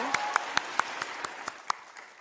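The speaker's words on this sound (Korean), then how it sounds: "하나님께 한번 영광의 박수 올려드릴까요?" Rhythmic unison clapping from a congregation during a Korean Wednesday church service, about ten evenly spaced claps over a soft bed of scattered applause.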